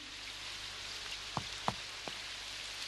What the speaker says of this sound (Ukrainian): От би перестало дощити.